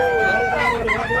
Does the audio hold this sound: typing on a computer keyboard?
no